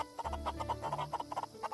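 Rowdy chickens in the farming game Forest of Drizzling Rain cluck in a steady run of short, choppy calls, close and fairly loud, with no talking over them.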